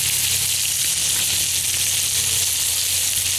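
Crab cakes fry in a cast iron pan over an outdoor fire, sending up a constant, close sizzle that runs unbroken and without talk.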